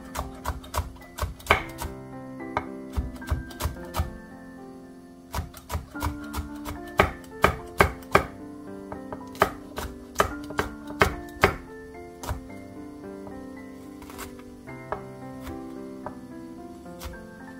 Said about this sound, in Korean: 매운맛이 좋으신 분들은 청양고추 한 개를 썰어 넣어주세요.